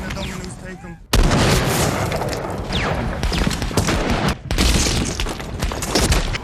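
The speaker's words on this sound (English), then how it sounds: "they opened fire on him." Loud war-film battle sound from Saving Private Ryan: dense, sustained gunfire and explosive booms fill the scene after a quieter opening, with brief dips and sharp cracks throughout.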